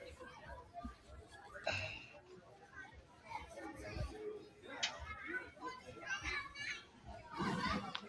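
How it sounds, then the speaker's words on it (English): Kids yell, scream and chatter as they play at a vendor and art market, a busy stretch of overlapping young voices with sharp shrieks rising now and then, heard at a moderate distance. "You hear the kids yelling and screaming and playing."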